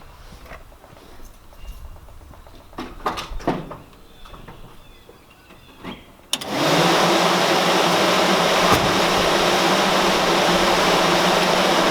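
New electric radiator fans on a 1976 Ford F250 kick on abruptly and run with a loud, steady broadband whoosh, after several seconds of quieter ambient shuffling and clunks.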